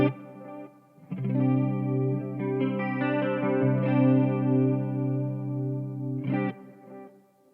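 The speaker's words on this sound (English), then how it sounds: "Let's put some reverb in there. We'll put some chorus in there" A clean electric guitar rings out through a Marshall MG50CFX amp with lush chorus, reverb and delay, sustained chords swelling and trailing off.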